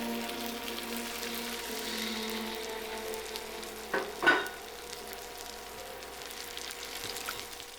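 Egg frying in a little oil in a hot pan alongside pad thai noodles gives a soft steady sizzle, faint and continuous, with a couple of brief louder scrapes partway through.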